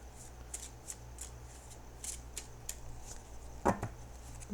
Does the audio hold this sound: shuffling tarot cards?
yes